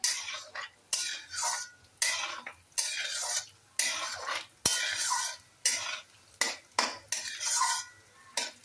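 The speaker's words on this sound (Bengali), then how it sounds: "তো আমরা এটাকে হালকা করে ভেজে নিলাম" Something fries in a burnt, blackened kadai while a spoon stirs it in steady, rhythmic scraping strokes about once a second, with a light sizzle underneath. The sound is close and clear, with no voices.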